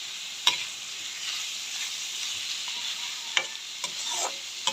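Carrots and hotdog fry in a little oil, giving a soft, steady sizzle close by, with a few sharp clinks and scrapes from stirring scattered through.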